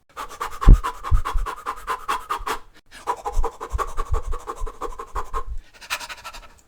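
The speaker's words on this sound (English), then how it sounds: "That just sounds like a dog panting." A dog pants rapidly in quick rhythmic bursts in the FMV shooter video game Killing Time, pausing briefly between runs, close and clear with no talking.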